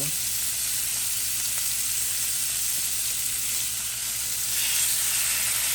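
Nearly a pound of shaved beef sizzles steadily in a hot pan, a close, even frying hiss with faint crackles that swells slightly near the end.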